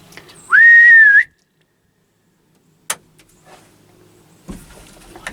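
A person gives one loud, clear sustained whistle, held about half a second, aimed at a whitetail deer in an outdoor hunting setting, followed by quiet with faint clicks and shuffling.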